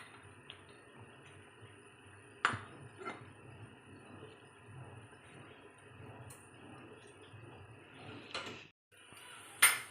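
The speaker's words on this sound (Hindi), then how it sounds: "अब मैं ये इसके अंदर डाल दूँगी। ये देखें, इसको अच्छे से मिक्स करूँगी।" Shredded chicken being stirred into thick haleem in a pot, with soft scraping and occasional sharp clanks of a spoon against the metal, a few louder knocks standing out over a quiet background.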